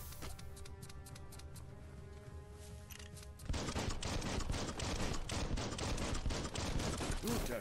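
Rapid bursts of gunfire in the video game Biomutant crackle steadily, a dense run of shots that grows louder midway and keeps going without pause.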